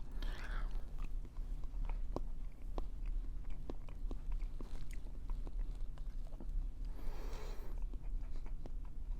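Chunk of tonka bean being bitten and chewed, close and quiet, with a series of small sharp crunches and soft mouth sounds spread over several seconds, no talking.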